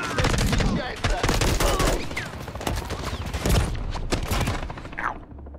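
Dense, rapid gunfire rattles through a Modern Warfare III campaign battle on Veteran difficulty, overlapping bursts and single cracks hammering loudly and almost without pause before tailing off near the end.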